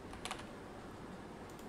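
Soft keystrokes on a computer keyboard come in a couple of quick, quiet bursts as a domain name is typed, with a faint steady room hum between them.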